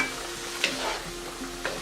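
Ground beef for spaghetti meat sauce frying in a pan, a close steady sizzle with a couple of spoon scrapes and taps as the meat is broken up, no voices.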